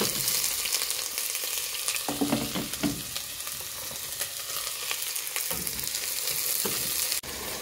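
Beef sizzling and frying in a pan for a curry, a loud, dense hiss with crackles and occasional stirring scrapes, close and continuous, with no talk.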